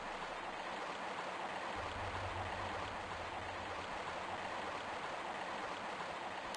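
Mountain stream water in Tomb Raider Remastered flows in a steady, broadband rush that stays constant throughout, with a faint low rumble partway through.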